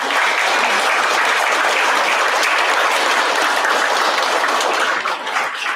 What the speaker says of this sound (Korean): 한미동맹을 최초로 출범시킨 한미 양국의 지도자들에 대해서 여러분들께 감사의 박수를 제안드리고자 합니다.